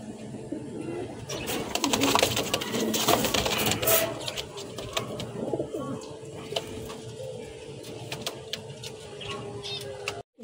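A pair of white Bombay running pigeons coo softly and repeatedly at close range, their low throaty calls layered over faint background noise and scattered sharp clicks.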